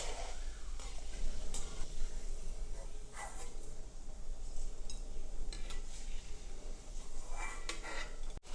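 Fenugreek seeds fry in hot oil in a pan for pickle making, a steady sizzle with occasional stirring scrapes and clinks throughout.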